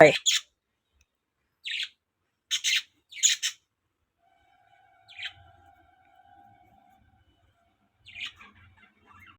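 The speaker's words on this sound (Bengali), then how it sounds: "আর পাখির কিচির মিচির আওয়াজগুলো অনেকটা সুন্দর লাগে" Birds chirp and squawk near a house in the morning, short bright calls in scattered bursts, loud at first and then sparse, with a faint steady tone in the quiet background.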